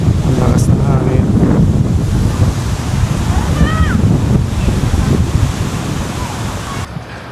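Strong wind buffets the microphone over crashing surf on a Boracay beach, a loud constant roar with breaking waves beneath and a few faint distant voices.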